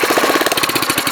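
A small go-kart engine is pull-started and catches with a loud, rapid, chugging burst of firing pulses, heard up close for just over a second.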